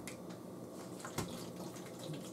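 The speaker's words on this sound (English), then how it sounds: "Put some of that water in there." Water pours steadily into a cooking pot on a home stove while a cilantro and turmeric drink is made, a continuous faint splashing flow with one brief louder splash midway, no talking.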